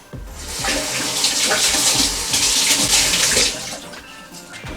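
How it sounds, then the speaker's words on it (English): Kitchen tap water runs steadily onto a towel as half of it is wetted, a loud close splashing hiss that lasts a few seconds and then eases slightly. "I'm going to wet this towel, half of it"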